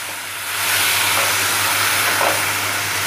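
Turmeric, panch phoran and chopped tomato sizzle in hot oil over a lowered gas flame for an Odia fish mustard curry, a loud, close, steady hiss that swells slightly after the first moment.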